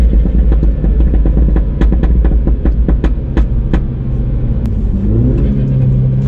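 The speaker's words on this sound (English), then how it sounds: "That was not a good heel toe downshift" A car engine revs sharply during a heel-toe downshift, with a loud, close rumble broken by quick blips of throttle and then a rising pitch as the revs climb and settle toward the end.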